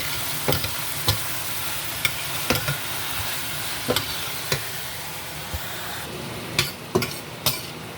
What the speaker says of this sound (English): So I'm going to go ahead and add my saltfish. Alright. Stir it up.